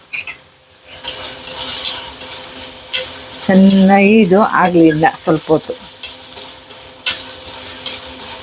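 Curry leaves dropped into hot oil for a tempering crackle and sizzle loudly, with spoon clinks on the pan and stirring, while someone talks briefly over the frying.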